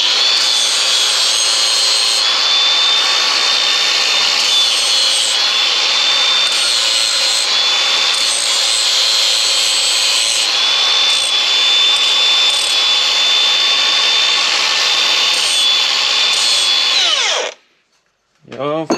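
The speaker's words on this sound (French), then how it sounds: "Un coup de meule pour enlever les bavures." A grinding wheel removes burrs from metal with a loud, continuous high-pitched whine and grating hiss lasting nearly twenty seconds, then abruptly cuts off with a brief spin-down.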